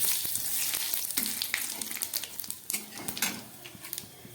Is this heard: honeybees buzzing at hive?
no